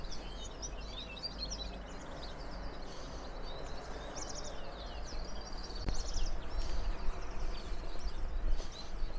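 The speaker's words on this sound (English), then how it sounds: "You don't always hear a lot of birds, but here, particularly at the moment, I'm hearing plenty of them" Birds chirp and sing intermittently outdoors along a levada walk from Funchal to Câmara de Lobos, Madeira, scattered calls over a soft background hum, moderately distant.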